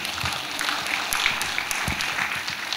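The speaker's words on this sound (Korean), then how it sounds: "우리 다시 한번 감사의 박수를 드리겠습니다." A church congregation claps steadily throughout, a dense, even patter of many hands filling the room at moderate loudness with no voices on top.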